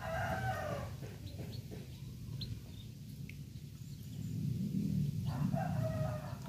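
Hens and chicks, a mother hen with her brood of five, cluck and peep softly at close range over a steady low rumble, with a faint crow-like call among the scattered chirps.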